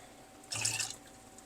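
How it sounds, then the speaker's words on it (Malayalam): Water poured into a pan of Thai green curry, a brief splashing gush lasting under half a second against a quiet kitchen background, close, with no talk. "നമുക്ക് വെള്ളം ഒഴിക്കാം"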